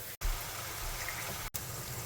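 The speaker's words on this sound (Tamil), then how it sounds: "அரை கிளாஸ் தண்ணி ஊற்றிக்கலாம்" Half a glass of water is poured into a pan of boneless chicken pepper curry, making a steady close splashing rush that is cut by two brief breaks, with no voices.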